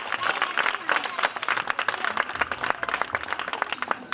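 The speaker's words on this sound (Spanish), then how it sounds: "¡Aplauso!" Audience at a children's theatre show claps in a dense, crackling burst of applause, mixed with crowd noise and some voices, sustained at a steady level throughout.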